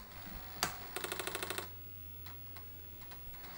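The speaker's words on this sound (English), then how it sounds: "That's the 5 1/4 inch disc startup noise disc." An Apple IIc's 5.25-inch floppy disk drive starting up gives a sharp clunk followed by a quick, even burst of rapid mechanical clicks, then faint scattered ticks over a low electrical hum, heard close and quiet.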